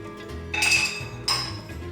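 Two bright glassy clinks from a glass jar of pepper paste being emptied into a bowl while cooking sticky, sweet, spicy chicken thighs, each ringing briefly, close and fairly loud over a low kitchen background.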